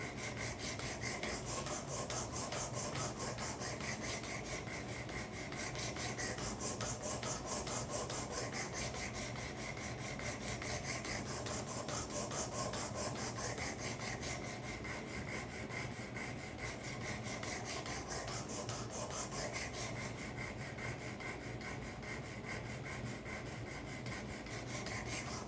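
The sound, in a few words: sharpening karambit blade on 320 grit abrasive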